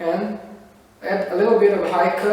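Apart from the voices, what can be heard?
No everyday noises stand out.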